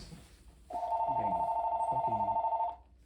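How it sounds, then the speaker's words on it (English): A phone rings with an incoming call, a loud, steady electronic trill held for about two seconds, close by, with faint low voices underneath. "Call from Blade"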